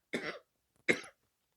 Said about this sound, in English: I might start coughing in the middle of this